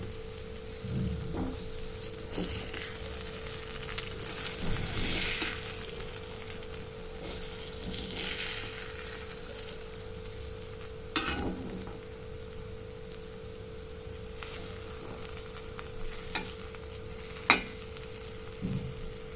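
Eggs fry in masala in a pan, giving a steady soft sizzle and crackle with scattered pops and stirring scrapes, close by and without talk.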